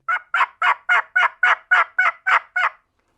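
A turkey call imitates a hen turkey's yelp with a run of ten quick, even, nasal notes, close and clear with no talking.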